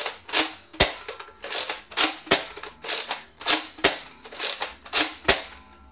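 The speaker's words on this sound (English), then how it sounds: "Rapid fire, just hold down the trigger and just pump it." A Nerf Rival Phantom Corps blaster fired rapidly by holding the trigger and pumping, producing a regular series of about a dozen sharp clacking shots paired with pump strokes, close and crisp with no talking.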